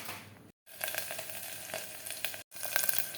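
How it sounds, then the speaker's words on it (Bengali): Soaked rice and lentils for khichuri fry in a home kitchen, giving a faint, even sizzle with light crackles and a few soft stirring scrapes, broken twice by brief dead-silent gaps. "চাল ডালটা ভেজে নিচ্ছি"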